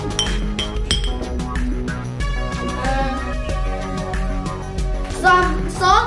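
Glass bottles clink together in a series of light, bright taps over background music, with a voice talking at times.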